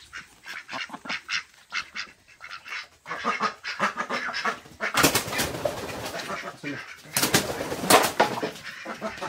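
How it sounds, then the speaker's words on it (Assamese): Ducks being caught for a duck curry quack and honk loudly in repeated, overlapping bursts up close, growing more frantic and agitated toward the end. "হাঁহ এটা ধৰি লওঁ এতিয়া"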